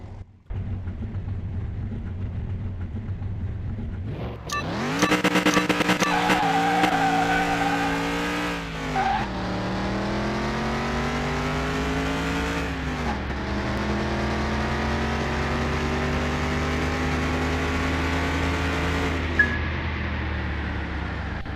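A six-cylinder BMW 3 Series on slick tyres races in Car Mechanic Simulator 2021, its engine revving hard and loud through rising gear pulls and shifts, with brief tyre squeal, steady and close with no talk.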